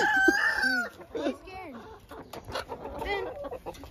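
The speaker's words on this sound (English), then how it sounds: "that rooster" A rooster crows close by, a loud drawn-out call at the start, followed by clucking and fowl sounds mixed with people talking nearby in a backyard animal pen.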